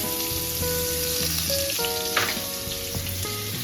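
Onion frying in hot oil in a pan while pumpkin is being cooked, a soft, steady sizzle close by under a background of tonal music or hum, with no talking.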